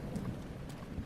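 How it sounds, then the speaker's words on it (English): Thunderstorm with steady rain and low rumbling thunder in the Zelda: Breath of the Wild video game, a continuous dense wash of rainfall with deep rolling rumble throughout. "Lightning storm is almost over."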